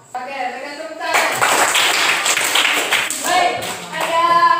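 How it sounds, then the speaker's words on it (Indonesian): A classroom group of students claps together, with steady, close hand claps filling most of the stretch after a brief spoken moment at the start, and voices mixing in near the end. "Oke, berikan tepuk tangan."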